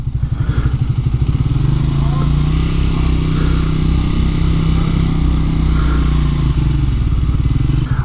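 Triumph Speed 400 single-cylinder motorcycle being ridden on the road, its engine throbbing loudly and steadily throughout with a pulsing low chug close to the microphone, and a slight rev change partway through.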